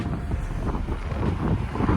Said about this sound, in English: gust of wind there.